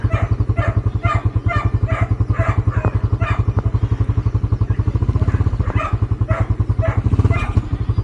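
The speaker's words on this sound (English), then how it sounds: "No sounds this time, just want the motor noise." A Skygo Boss 150 motorcycle engine idles and runs with a steady, fast, loud pulsing thump, close by, with slight rhythmic variations through the middle.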